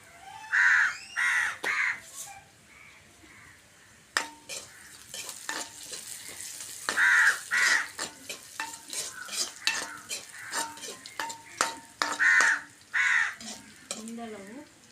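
Mustard seeds crackle in hot oil while being tempered for egg curry, a steady soft sizzle with occasional stirring clinks. Crows caw loudly and repeatedly nearby, and a brief voice appears near the end.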